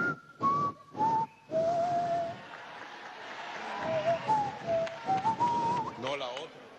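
A person whistles a melody in clear, sliding pitched notes, with short separate phrases first and then a longer flowing line, while people talk nearby.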